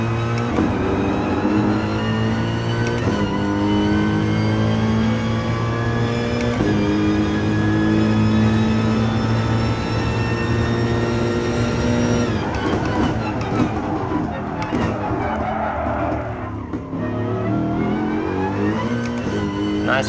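Race car engine from Gran Turismo Sport on a Nürburgring lap, a loud sustained whine that rises through the gears with brief shift dips, then drops off and climbs again near the end, with no talk.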